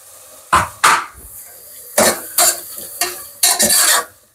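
Tomato being fried with a paste in a pan for a chickpea pulao, heard as loud, close spatula scrapes and clatters over a faint sizzle.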